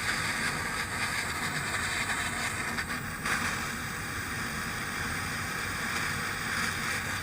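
A propane torch melts material together during a roadside van repair, giving a steady low roaring hiss throughout with no speech.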